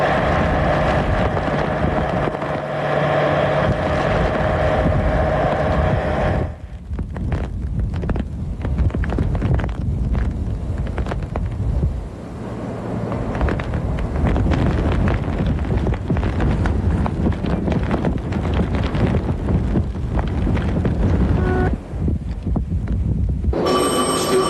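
Powerful hurricane winds batter the microphone in roaring, continuous blasts, with loud sustained gusts, a brief lull near the middle, then renewed heavy buffeting; no one talks over it.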